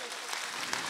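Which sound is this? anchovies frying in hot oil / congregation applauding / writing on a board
congregation applauding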